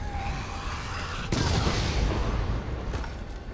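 A bomb explosion in Resident Evil 7 bursts in with a sudden broadband boom, followed by a dense rumbling tail and a smaller blast near the end.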